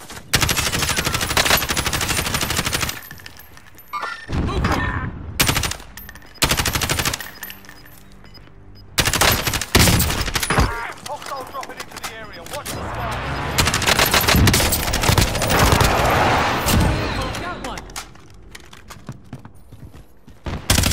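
Bursts of automatic gunfire from an SMG loadout in Call of Duty Warzone, loud and close, firing in repeated rapid volleys separated by short gaps, with a long sustained burst in the middle.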